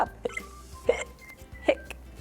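A storyteller's voice imitates hiccups in a children's story, several short sharp vocal 'hic' sounds spaced about two-thirds of a second apart, fairly close and clear.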